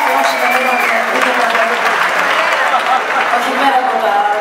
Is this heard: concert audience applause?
yes